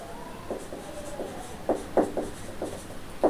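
Chalk or marker scratching and tapping on a board during a classroom lesson, in short irregular strokes that are close and moderately faint, with no talking.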